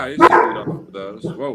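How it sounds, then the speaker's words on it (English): A golden retriever lets out loud, close barks, a sharp yelp followed by a few shorter woofs, with a voice speaking over and between them. "that was my dog."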